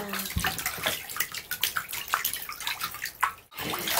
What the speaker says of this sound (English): Yeah, you love to splash.